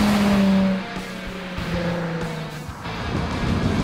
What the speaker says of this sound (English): This exhaust note on the 350 is actually the most pleasing of all of these cars stock.